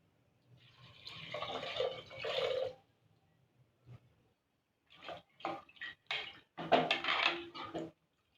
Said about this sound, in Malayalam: പിന്നെ 3 ഗ്ലാസ് വെള്ളം കൂടി ചേർത്ത് നമുക്കിത് വേവിച്ചെടുക്കാം.